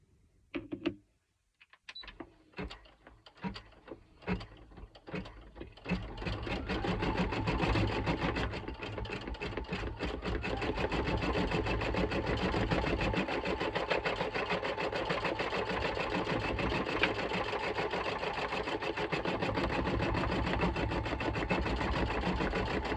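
Embroidery machine stitching a Halloween design, starting with a few uneven stitches and then running in a fast, steady mechanical rattle for most of the stretch, loud and close with no talk.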